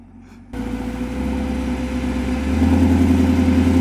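A 2022 Chevrolet Camaro ZL1 1LE with a manual gearbox starts to pull away, its engine rising suddenly into a loud, deep steady drone that swells further as the car moves off, close up with no talk.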